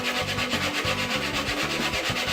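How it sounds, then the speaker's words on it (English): Sandpaper rubbed by hand along a wooden katana sheath makes rhythmic back-and-forth scratchy strokes, close and steady, about three per second with no speech. "sand the sheath."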